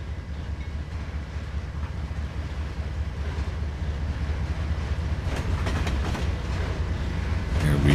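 BNSF freight train passing by in the Trainz 2022 railroad simulator, a continuous rumbling roll with rhythmic clatter that builds slightly louder toward the end, with no talk.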